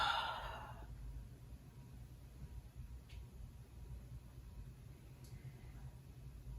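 A single soft, breathy exhale opens the moment as a person folds forward in a yoga pose, followed by near silence in a quiet room.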